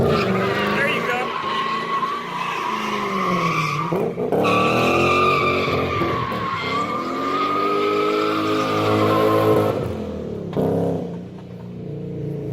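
A Lexus drift car with a custom rear diffuser slides through second-gear sweepers, tires squealing in long sustained skids over a loud, rising and falling engine drone, heard from close up.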